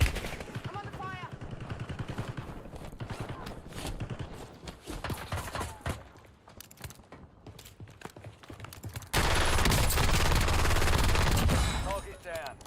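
Rapid machine-gun bursts and scattered gunshots crackle in a Warzone firefight, with mechanical clicks and intermittent volleys; near the end, loud, continuous heavy firing dominates, and voices are heard beneath the action.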